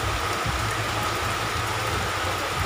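Heavy rain pouring down outdoors, a constant dense hiss of drops hitting surfaces with a low rumbling hum beneath, steady and close throughout.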